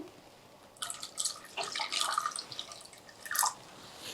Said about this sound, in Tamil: தேங்காய் பால் சேர்த்துக்கிறேன்